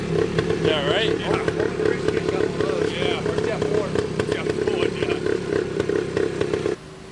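An original 1972 Yamaha RT2 360 Enduro two-stroke motorcycle engine buzzes and revs on a test ride with only 3,700 miles, a steady nearby drone with rising and falling pitch under people talking, cutting off abruptly near the end.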